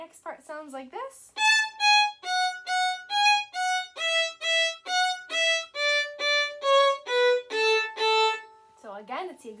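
A violin plays a steady series of short, evenly spaced bowed notes in a simple repeating pattern, with brief speech at the start and end.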